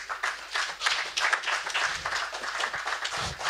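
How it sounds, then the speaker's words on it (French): Congregation applauding at a church anniversary service, a dense, steady wash of many hands clapping at moderate level throughout, with a few louder bursts and faint voices mixed in. "Applaudissons pour la gloire de Dieu."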